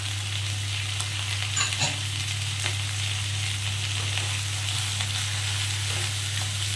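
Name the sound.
onion and capsicum frying in a pan for fish curry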